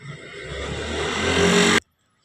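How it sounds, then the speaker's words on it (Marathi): A nearby auto rickshaw engine revs, rising in loudness for under two seconds and then cutting off abruptly into near silence. "याच त्यांची रिक्षा"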